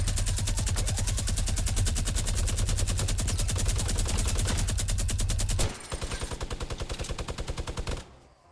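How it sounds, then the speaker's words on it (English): A minigun in Fortnite fires a rapid, sustained stream of shots for several seconds, then shifts to a slower, quieter rattle before winding down and stopping. "Ready, minigun him in a minute."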